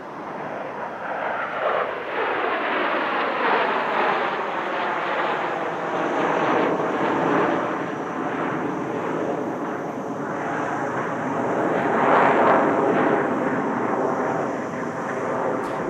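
An afterburning fighter jet roars through a flying display manoeuvre at the Dubai Airshow, a loud, rough, sustained blast that sweeps in pitch as it passes, with no speech over it.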